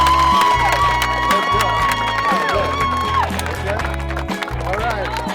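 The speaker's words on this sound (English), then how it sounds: "So we're cheering for the Kickback crew." A street crowd at the Chicago Marathon cheers and shouts continuously, loud and close, over a rhythmic low-pitched backing beat, with voices calling out among the noise.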